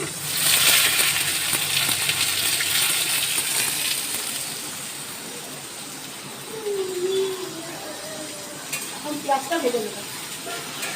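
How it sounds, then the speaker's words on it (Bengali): Onion goes into hot oil already cooking with cardamom, cinnamon, cloves and peppercorns. A loud burst of sizzling frying eases off, followed by stirring scrapes and a few metallic clinks near the end. "এবারে পেঁয়াজটা দিয়ে দিচ্ছি"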